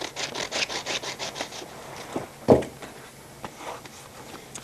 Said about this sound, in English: For the inside radius here, I'm just going to use a piece of my spindle sander to come in and do that.